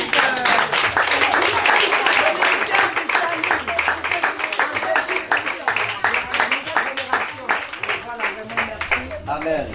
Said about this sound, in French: Les enfants, est-ce qu'on peut applaudir pour l'église?